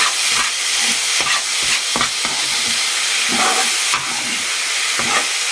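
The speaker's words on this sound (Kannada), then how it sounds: "ಇದನ್ನೊಂಚೂರು ಸ್ವಲ್ಪ ಫ್ರೈ ಮಾಡ್ಕೊಳ್ಳೋಣ ತುಪ್ಪದಲ್ಲಿ" Beaten rice frying in ghee for a sweet payasam, a steady loud sizzle with repeated scrapes and clinks of a spoon stirring the pan, close up and without talk.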